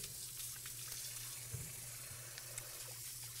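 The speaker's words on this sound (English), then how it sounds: "Let me wash my hands real quick." Tap water runs steadily into a kitchen sink while hands are washed after frying chicken livers, a soft continuous hiss with a low hum beneath it, no talking.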